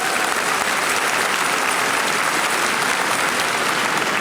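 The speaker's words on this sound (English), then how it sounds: "Give yourself a round of applause" Loud, dense applause fills a school district convocation hall as educators clap for themselves, a continuous roar of many hands close by from start to finish, with no voices on top.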